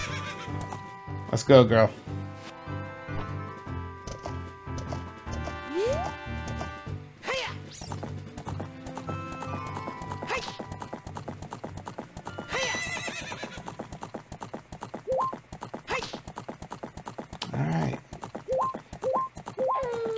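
Epona, the horse in the video game Zelda Ocarina of Time, whinnies and gallops with steady clip-clop hoofbeats, several neighs and impact sounds over game music, with someone talking briefly.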